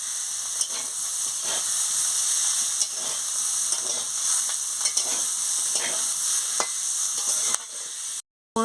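Minced meat fries with potato and eggplant in a pan, a steady bright hiss of sizzling oil broken by occasional soft stirring scrapes before a sudden cut near the end.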